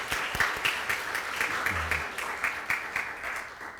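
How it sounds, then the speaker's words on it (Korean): Church congregation applauding a wedding announcement, a moderate, uneven patter of clapping with distinct individual claps, fairly quiet and sparse, with a brief low voice murmuring partway through. "어떤 사람인지 보면서 축하한다고 미리 박수 칩시다."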